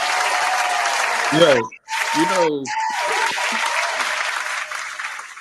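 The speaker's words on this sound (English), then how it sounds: "round of applause" Audience applause on a live Houston Texans podcast show, steady clapping filling the clip with a brief dip near the middle, while a voice speaks over it.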